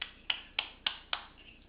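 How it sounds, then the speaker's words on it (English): A baby claps hands four times in an even, steady rhythm, each clap a crisp, light, close-up smack with quiet pauses between. "Can you clap for Grandma Deb?"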